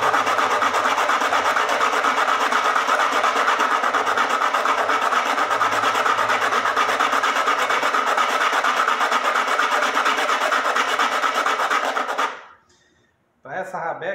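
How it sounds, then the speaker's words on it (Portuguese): Sanding a hard cumaru wood bridge for a rabeca fiddle gives a steady, loud abrasive rasp that runs continuously, then stops abruptly near the end, followed by brief quieter noise. "Vou lixando aqui, que é para dar a forma certinha."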